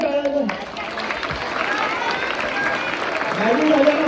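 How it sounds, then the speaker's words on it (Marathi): An audience breaks into sustained applause and crowd noise after a science magic trick by Sanjay Deshpande, a steady wash of clapping with voices mixed in that swells again near the end. "टाळ्या टाळ्या."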